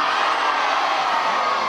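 A large crowd of students at a school race opening ceremony cheers and shouts together, a loud, sustained roar of mixed voices filling the whole moment.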